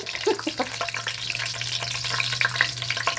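Star anise, cinnamon and curry leaves fry in hot oil for keema, giving a steady close sizzle with light crackles and the odd scrape of a utensil, with no talk.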